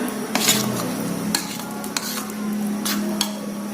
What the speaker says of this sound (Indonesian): Lalu kita akan menggorengnya sambil menunggu minyak panas. Kita aduk dulu sebentar.